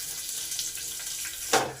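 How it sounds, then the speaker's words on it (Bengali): Chopped garlic and broken dried red chillies fry in oil in a pan, giving a steady soft hiss and crackle with a brief louder sputter near the end. "রসুনগুলো 1 মিনিট লাল লাল করে ভেজে নেব।"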